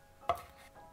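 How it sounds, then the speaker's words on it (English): A single sharp knife chop through cilantro on a cutting board, close and brief, in an otherwise quiet kitchen. "Cut 5 grams of cilantro in 2 sections."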